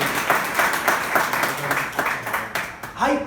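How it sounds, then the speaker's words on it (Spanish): Church congregation applauding during a Spanish-language sermon, a sustained round of clapping from many people, with a voice speaking over it. "Denle ese aplauso a Jesús."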